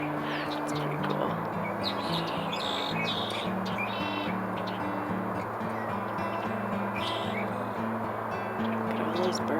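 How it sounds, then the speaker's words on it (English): Many birds chirp and tweet outdoors on a snowy late-winter evening, with bright overlapping calls over a steady low droning hum that runs throughout. "Look at all those birds."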